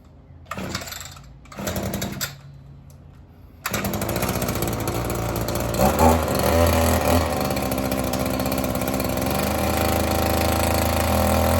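An Echo SRM-2620 string trimmer is pull-started with a couple of short sputtering cranks, then its small two-stroke engine catches and runs loud and steady nearby, rising briefly in revs before holding a buzzing idle.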